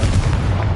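A Confringo explosion spell cast in the video game Hogwarts Legacy, a single heavy booming blast with deep low rumble, loud and close, filling the whole short moment.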